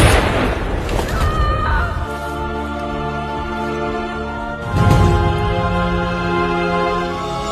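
A gunshot from a film scene in which two men aim pistols at each other: a sharp burst at the start, another impact near five seconds, with dramatic music sustained underneath throughout.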